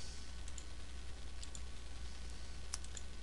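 Keys are pressed on a TI-83 Plus calculator, a handful of faint, crisp plastic clicks spaced irregularly over a low steady background hum, close up and with no voices.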